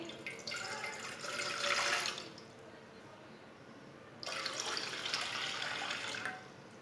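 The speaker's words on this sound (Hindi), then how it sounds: "2 कप पानी डाल लेंगे।" Two cups of water poured into a pot for karak chai, two steady splashing streams of a few seconds each separated by a quiet gap, close and fairly loud.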